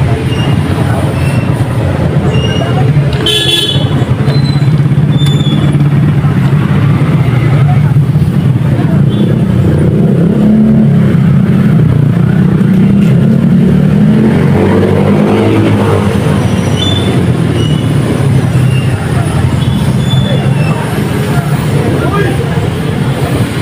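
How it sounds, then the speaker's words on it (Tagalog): A motorcycle-with-sidecar tricycle engine drones loudly and continuously during a ride, mixed with rattling road rumble and wind, with no clear pauses. "sasakay na natin to ng tricycle"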